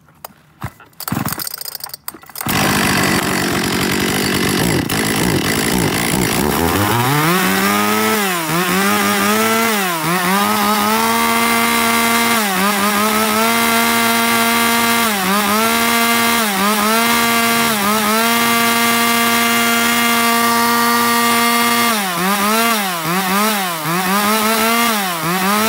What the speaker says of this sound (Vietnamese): Test nổ tiếng máy con Q5 cho các bác này, hàng Shiroa